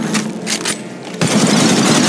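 Gunfire in the battle royale game Apex Legends: a loud burst of rapid shots in the first second, then a brief lull and a sustained, dense volley, close and alone with no talk.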